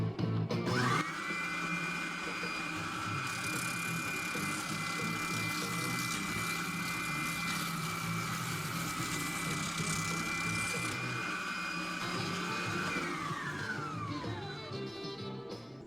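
A spindle sander smoothing the curved edges of a wooden nightstand runs as a steady, loud motorized whine for most of the stretch, starting abruptly and winding down near the end, with faint music underneath.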